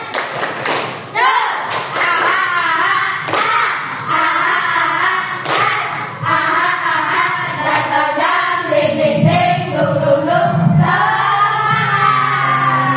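Elementary schoolchildren in a classroom perform the 'tepuk semangat' clapping routine, with sharp rhythmic claps and thumps in bursts while their voices chant loudly in unison over them.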